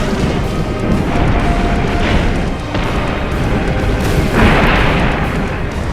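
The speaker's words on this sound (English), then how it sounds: "the second form of the monster rumbles down the city street in Japan" Loud, continuous rumbling and crashing as the second form of the monster moves down a Japanese city street in the film Shin Godzilla, with dense low booms and debris noise throughout.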